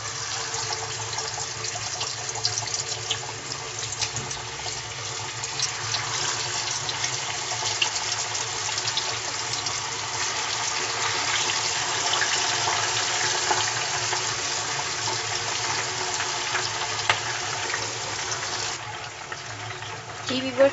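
Large chicken tikka pieces fry in hot oil with a continuous loud, close sizzle that holds steady throughout, crackling in a dense, even hiss.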